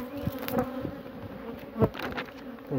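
Bees buzz around roses in a garden, their close droning rising and fading as they fly past, with no talking.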